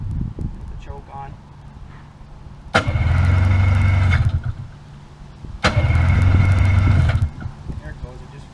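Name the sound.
Yamaha Vmax 600 snowmobile engine starting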